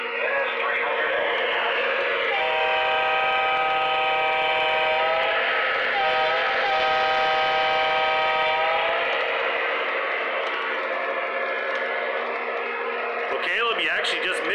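An NS300 model train runs with a steady mechanical hum, its sustained multi-tone horn sounding for several seconds midway, while a voice talks throughout.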